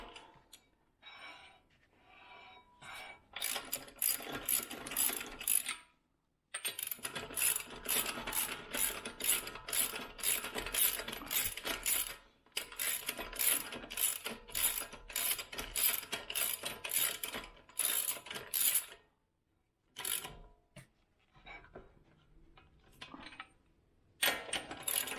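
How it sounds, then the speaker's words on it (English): A ratchet spins and clicks while lug nuts go back onto a 2006 Lexus IS350 front wheel, rapid close pawl clicking in several long bursts separated by short pauses. "putting all the lug nuts back on. You want to torque it in a crisscross pattern"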